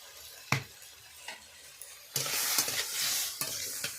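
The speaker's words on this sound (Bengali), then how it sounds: "এবারে কেটে রাখা টমেটোগুলো দিয়ে দেব। ওর মধ্যে দিয়ে দেব স্বাদ মতো লবণ" Chopped tomatoes with salt sizzle in a frying pan as a utensil stirs them with close scraping strokes. The frying hiss gets louder and steadier halfway through.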